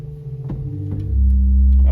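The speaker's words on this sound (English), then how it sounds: "There's a bass flute." Low bass flute stop on a large 1922 Skinner/1950 Möller pipe organ plays steady, soft sustained pedal tones, stepping to a deeper, louder note partway through, with faint pallet clicks.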